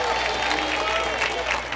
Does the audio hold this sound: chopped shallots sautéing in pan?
no